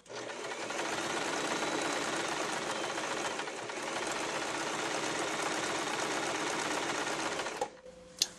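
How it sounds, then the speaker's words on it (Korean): A Swiss Elna sewing machine runs a straight stitch under foot-pedal control, giving a loud, even whirring hum that holds steady for about seven seconds before stopping abruptly. "직선 박음질 하실 때는 원단을 넣으시고 이렇게 발판을 그 다음 밟아주세요."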